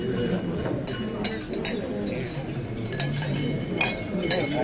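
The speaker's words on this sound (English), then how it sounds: "Hope everyone can raise their glass and join me in a toast to Sarah and Randy." Glasses clink at a wedding toast, with several light bright chinks scattered through a steady murmur of guests talking in a reception hall.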